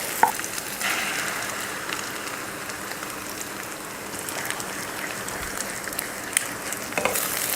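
Egg mixed into mutton podimas in a pan gives a soft, continuous frying crackle, fairly quiet and close, with faint scrapes of stirring scattered through.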